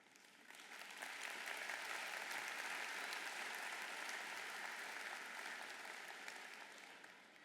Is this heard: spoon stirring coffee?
no